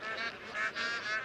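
Bar-headed geese at a high-altitude lake nesting site near a mountain pass give loud, continuous overlapping honks, several calls running together close by with no talking.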